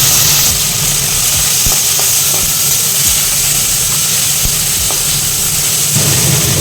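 Sliced bitter gourd and onions fry in hot oil with a loud, constant sizzling hiss close to the pan. Scattered soft clicks and scrapes of stirring come through the steady frying noise, and no one speaks.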